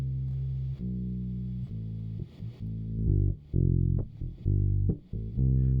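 A distorted bass guitar track with gritty, dirty midrange plays a loud, sustained line of held notes with a few quick slides between them, alone and close.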